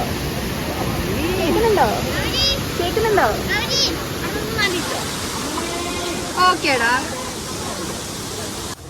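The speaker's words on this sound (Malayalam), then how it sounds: "നമ്മള് വെള്ളച്ചാട്ടത്തിന്റെ അവിടെയാണ് വന്നിരിക്കുന്നത്." A constant rush of falling water from a waterfall at Marayoor fills the background while people talk loudly over it nearby.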